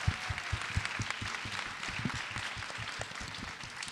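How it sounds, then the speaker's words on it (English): Audience applause after a film screening Q&A, a dense patter of many hands clapping at moderate distance, steady and fairly soft throughout. "Clap for that."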